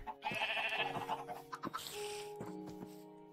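Sheep in Minecraft give a few short, wavering bleats in quick succession, close and clear, separated by brief pauses.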